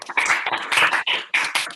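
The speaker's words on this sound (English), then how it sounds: "give a big round of applause for Jess" A crowd applauds a speaker at a national final, with dense, steady clapping that swells and dips in waves across a short burst.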